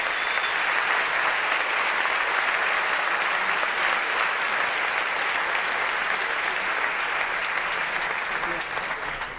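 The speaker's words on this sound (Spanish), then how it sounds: "También pido un fuerte aplauso para ellos." Audience applause at a political speech, a dense sustained wash of many hands clapping at steady loudness throughout, with no distinct voices rising above it.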